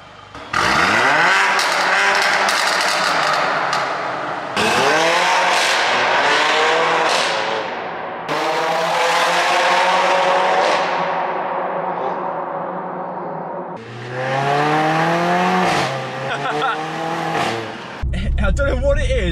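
A Mercedes A45 AMG with a straight-piped exhaust blasts through a road tunnel in Leicester, roaring loudly through several hard revving pulls, each with a climbing pitch, separated by brief lifts and gear changes.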